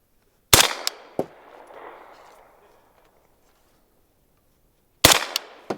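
A Sig Rattler fitted with a Sandman-K suppressor fires subsonic rounds outdoors: a sharp suppressed crack followed by a quick second report and a fading rumble, silence, then another shot with a short echoing tail.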